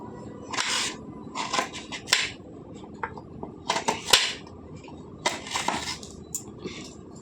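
Pieces of food spatter in hot oil as they fry, giving scattered bursts of crackling and popping at close range with no talking.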